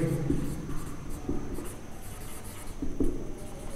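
Chalk or marker writing on a board during a maths lesson on differentiation, a run of close scratchy strokes with short pauses between words, heard alone with no voices.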